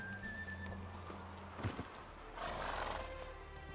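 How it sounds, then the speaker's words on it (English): A mare in the video game The Witcher 3 whinnies and snorts, with a brief burst of hoof and movement noise, over a soft constant game ambience and a faint tonal whistle. "Whoa there, Roach."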